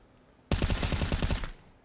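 Rapid automatic gunfire spray during a Counter-Strike esports match, a dense burst of about a dozen loud, evenly spaced shots lasting roughly a second, alone without talk.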